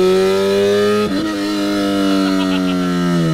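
Honda Integra with a K20A engine swap on a test drive, its engine droning steadily with a sustained, loud hum that dips briefly around the one-second mark before settling back into an even tone.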